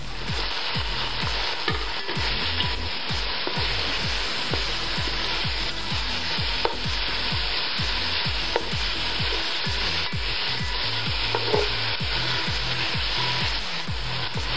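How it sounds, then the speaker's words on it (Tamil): Onions and tomatoes sauté in a pan for home-style mushroom biryani, giving a steady, fairly loud sizzle with rhythmic scraping strokes of stirring throughout. "வெங்காயம் தக்காளி எல்லாம் நல்லா வதங்கியிருக்கு"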